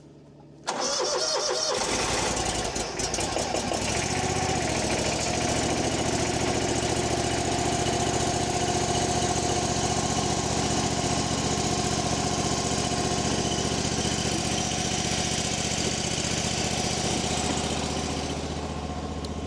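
A small engine cold-starts at half throttle with full choke, catching almost at once after a brief pull and then settling into a steady, loud, buzzing run that holds close and constant for the rest of the stretch.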